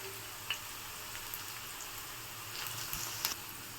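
Puliyogare spice powder frying in a pan over a low flame gives a faint, steady sizzle with a few small crackles and pops, and no voices.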